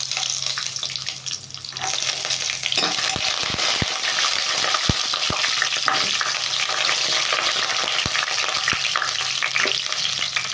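Dried red chillies, mustard seeds and cashews sizzle loudly in hot oil, a continuous crackling hiss with sharp pops and clinks of a utensil scattered through it, close and alone without talk.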